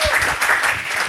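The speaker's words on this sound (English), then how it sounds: "round of applause" Loud, dense clapping from an audience at a Nerd Nite astronomy talk, a brief continuous burst heard up close.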